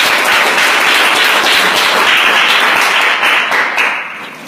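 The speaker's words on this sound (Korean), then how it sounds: "박수 한번 더 쳐주시죠" Dense audience applause fills the room at a Korean youth speech event, loud and sustained before easing off slightly at the end.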